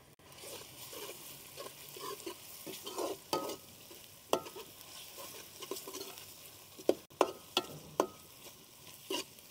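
Steady sizzling of garlic ginger paste frying with onions in a hot pan, with repeated scraping and stirring clatters that grow sharper toward the end.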